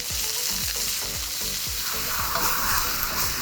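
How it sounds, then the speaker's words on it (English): Beef sears and sizzles steadily in a hot pan before stir-frying, with a constant loud frying hiss and a few soft knocks of stirring or shifting, no voices. "We want to sear the beef."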